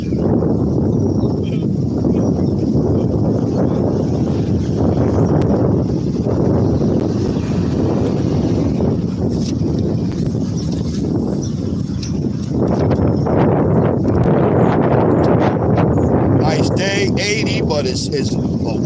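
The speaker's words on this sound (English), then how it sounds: "it's a windy day" Wind blows across an outdoor midweek camp gathering in Garner, North Carolina, a steady rumbling rush on the microphone lasting the whole stretch, with voices faintly present beneath it.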